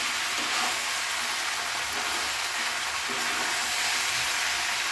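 Chopped ripe red tomatoes go into a pan of sizzling rui fish curry with potato and cauliflower, setting off a loud, steady hiss of frying that carries on unbroken with faint stirring beneath it.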